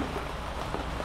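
Steady rain pours down outdoors along a roadside walk toward Brasília, a dense, even hiss with no breaks, moderately close and with no voices.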